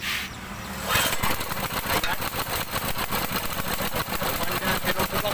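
A Honda GX200 small engine that won't start properly sputters and runs roughly after being choked, with a fast uneven chugging pulse throughout, loud and close.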